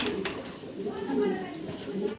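Fancy pigeons coo in low, throaty rolling calls, steady and close throughout, mixed with rustling and some background voices.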